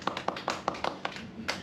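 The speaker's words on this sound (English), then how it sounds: "give us an applause, please" Audience clapping at an improv comedy show, a short, sparse and fairly faint burst of separate hand claps in quick succession.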